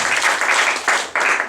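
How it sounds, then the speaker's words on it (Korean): A church congregation bursts into brief, loud applause during a youth sermon, close and dense clapping with a short dip before a second swell. "아주 우리 박수 한번 쳐줍시다"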